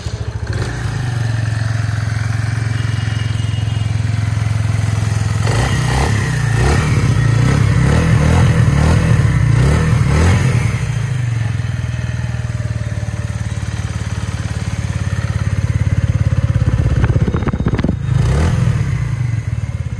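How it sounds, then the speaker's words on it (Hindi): A 2023 Keeway SR125 motorcycle engine idles steadily with a deep, throbbing exhaust rumble, rising briefly into a few throttle blips before settling back. "एक बार इस बाइक के एग्जॉस्ट को ऑन करके चेक कर लेते हैं"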